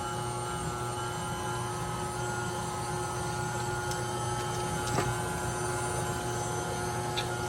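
Electric mixer whipping cream cheese icing with powdered sugar in a home kitchen, a steady mid-level motor whir running continuously with a few faint clicks and knocks against the bowl, no voices.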